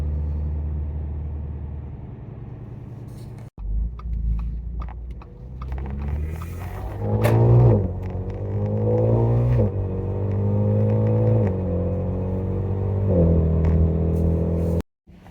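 Audi S5 fitted with a cold air intake, its engine and exhaust idling with a deep rumble, then revving in several rising pulls and settling back down, close and loud with no talking.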